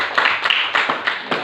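A classroom group claps hands in a quick, rhythmic series of about six sharp, close bursts, each a short flurry of overlapping claps.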